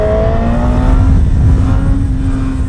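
Honda Hornet 1000 motorcycle pulling hard in second gear, a loud continuous engine roar with a steady rising whine, close and unbroken throughout, no voices.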